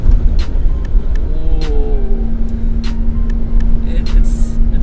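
A Maruti Zen Carbon with a 5-speed gearbox drives along, its engine humming steadily with a low rumble throughout, while a person talks over it.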